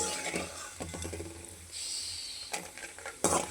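Sun-dried vegetable vathal frying in a pan, with a steady crackling sizzle broken by a few stirring scrapes and clinks of the pan, moderately close with no one talking.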